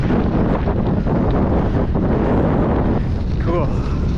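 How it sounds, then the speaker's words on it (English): Strong wind buffets the microphone outdoors with a constant, loud, roaring rumble that never lets up for the whole stretch, and a faint voice briefly rises under it near the end. "Super windy, as you can probably tell"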